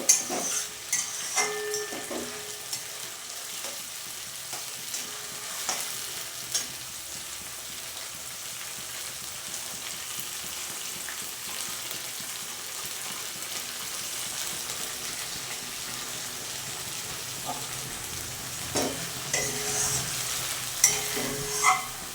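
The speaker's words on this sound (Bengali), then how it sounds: "পালং শাকের যে পেস্টটা তৈরি হয়েছে সেটা আমি কড়ার মধ্যে দিয়ে ভালোভাবে কষিয়ে নেব" Spinach paste frying and being stirred in a kadai, a steady sizzle with repeated scraping strokes of a spoon against the pan, close and continuous throughout with no talking.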